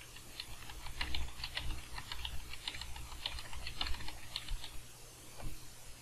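Typing on a computer keyboard while entering a spreadsheet formula: quick, irregular clusters of light key clicks, close and fairly quiet, over a low steady hum.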